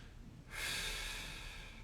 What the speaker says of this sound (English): So take a nice deep breath in.